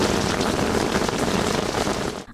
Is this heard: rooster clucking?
no